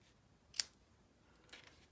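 Metal snips cutting the ends of a tie on a small elephant treat holder craft, two quiet, sharp snips about a second apart in a near-silent room.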